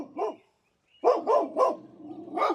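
A dog barks near a garden bed, one yelp followed after a pause by a quick run of three loud barks and a final bark, clear against a quiet background.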